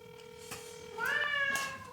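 A hungry cat locked in a basement gives a single drawn-out meow with a rising then falling pitch over a faint steady tone, fairly close and alone.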